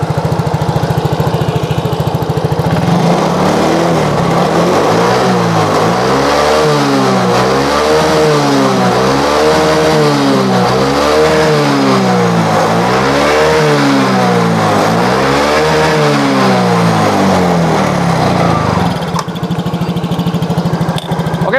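A Yamaha Mio scooter engine idles, then revs repeatedly in steady rising and falling surges for about fifteen seconds before settling back to idle, loud and close with no talking.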